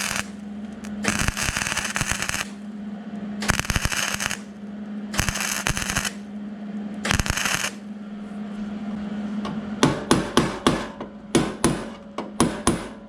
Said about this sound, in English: And we're tapping another plug weld in nice and tight.